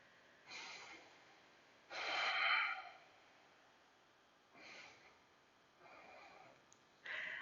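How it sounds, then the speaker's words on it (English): Breathing during a yoga hip stretch comes through as slow, close breaths: a short one, then a long deep exhale, followed by three softer breaths spaced a few seconds apart, with quiet pauses between them. "Last 2 breaths here."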